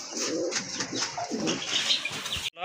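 A pair of blue satin pigeons coo softly and continuously, with occasional wing flutters and faint chirps nearby, ending in a brief abrupt cut.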